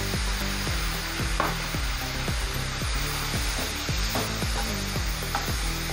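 A spoon stirs milk into melted sugar and semolina in a pan for rava laddu, producing a steady soft sizzle under repeated rhythmic scraping strokes, roughly two per second, close and continuous.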